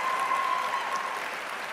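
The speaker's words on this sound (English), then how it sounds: "So let's give her our thanks and round of applause." Audience at a 2011 Spelman College commencement breaks into a steady, dense round of applause, even and sustained with no talk over it.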